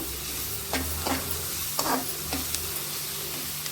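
Salted ingredients for Mumbai-style pav bhaji fry steadily in a pan while a spoon stirs and scrapes in a handful of distinct strokes over a constant close sizzle, with no talking.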